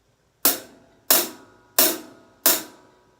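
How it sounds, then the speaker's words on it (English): Right-side hi-hat on a symmetrically arranged drum kit, tuned slightly loose, struck four times at an even, steady pace, each hit a bright crisp chick with a short decay, close and alone. "And my other hi-hats on the right sound like this."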